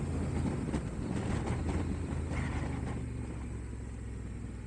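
Honda Transalp 750 motorcycle engine ridden at low speed, a steady low rumble with wind buffeting the microphone throughout, no talking.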